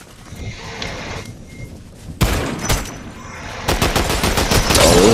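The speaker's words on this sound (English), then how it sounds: "They're shooting at you." Bursts of gunfire in the Fortnite video game crackle in rapid volleys, sparse at first and then growing denser and louder toward the end, with fast repeated shots layered over game noise.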